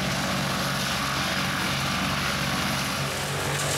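A wood chipper grinds tree branches and leaves during tree removal, its engine roaring loud and close in a continuous, heavy drone with rough grinding texture and no voices.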